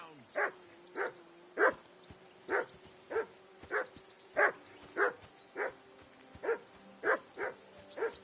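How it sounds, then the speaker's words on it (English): A dog barks over and over in the video game Kingdom Come Deliverance 2, about a dozen sharp, evenly spaced barks at mid distance against a quiet background, with no talking. "I assume you can hear that damn dog of yours barking."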